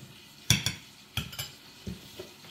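A utensil stirs flour into meat in a pan, making a few sharp scrapes and clinks against the metal at irregular intervals, close by and with no talking.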